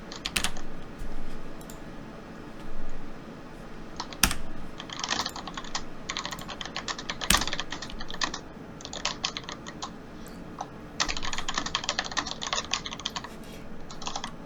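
Loud, clacky computer keyboard typing comes in quick bursts separated by pauses, the keystrokes close and sharp.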